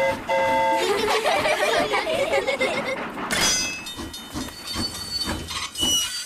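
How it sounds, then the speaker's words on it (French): A cartoon steam train rolls along its rails with a steady hiss of steam, whistle-like tones at the start and again midway, and rhythmic rolling and clacking throughout, fairly loud and close. "Clic-clic-clic, clic-clic-clac, le train roule sur les rails"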